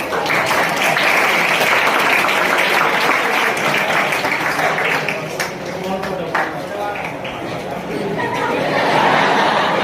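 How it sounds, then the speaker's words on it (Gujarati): An audience at a career guidance seminar applauding loudly for a teacher, with voices and laughter mixed in. The clapping dips briefly midway, then swells again. "તેજસ સર માટે જોરદાર તાળીઓ પાડી."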